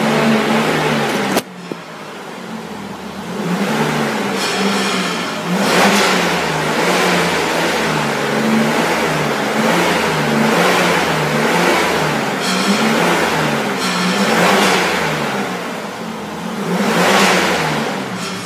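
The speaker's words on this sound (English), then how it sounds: "best of all, the engine sounds great" A 1997 Pontiac Bonneville's engine revs repeatedly, rising and falling in several loud surges over a steady idle, heard close with no talking.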